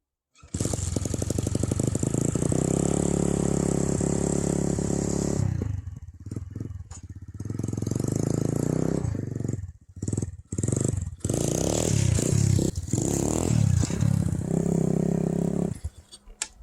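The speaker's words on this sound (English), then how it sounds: "This is just clutch, no body weight, and see what it can do." Motorcycle engine revving hard for a clutch-popped wheelie: a loud, close, sustained roar, then choppy throttle blips and stutters, and a final surging rev before cutting off.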